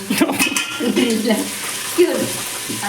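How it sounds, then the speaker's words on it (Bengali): Chicken sautéing in a pot for homemade biryani, a continuous close sizzle with scraping stirs and the odd clink of utensil on metal, under a voice talking in the background. "চিকেনটা কষাচ্ছি"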